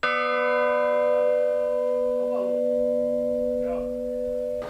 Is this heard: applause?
no